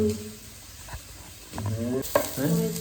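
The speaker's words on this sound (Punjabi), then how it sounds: "ਅਦਰਕ ਲਸਣ ਮਿਰਚ ਤਿੰਨੇ ਚੀਜ਼ਾਂ ਭੁੰਨਣੀਆਂ ਪਹਿਲਾਂ ਥੋੜੀਆਂ ਜਿਹੀਆਂ" Ginger, garlic and chili fry in a pan with a soft sizzle, broken by a few stirring scrapes and clatters that get busier toward the end.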